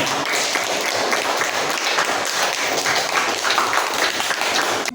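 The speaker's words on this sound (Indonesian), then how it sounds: "Kasih tepuk tangan untuk." Applause from a class of fifth-grade students in a primary school science lesson on light, a dense, steady clatter of many hands clapping that fills the whole stretch at a loud, even level.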